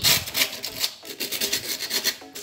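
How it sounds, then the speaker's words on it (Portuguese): Hand sanding a small square concrete planter, with rhythmic rasping strokes of sandpaper scraping back and forth in quick repeated passes, close and fairly loud. "vou dar um acabamento, ó, lixando todinha a peça"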